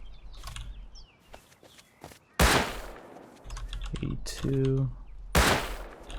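Incendiary bullets from the Rust video game fired at a tool cupboard: loud, sharp gunshot bursts cut through the speech, with rapid clatter and short rattling impacts between shots.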